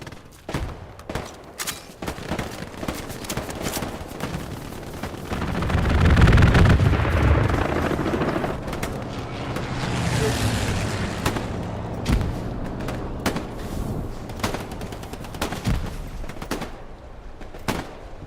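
Rapid bursts of machine gun fire crackle through a World War II battlefield in Hell Let Loose, mixed with distant booms and artillery, loudest around the middle and continuing in scattered volleys.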